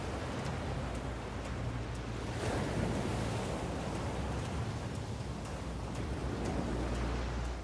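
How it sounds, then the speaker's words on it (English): A tsunami wave roars toward a city, a dense, continuous wash of surging water and wind-like rushing noise that stays loud and even throughout, with no voices. "a tsunami, over 30 stories high, now barrels toward the city."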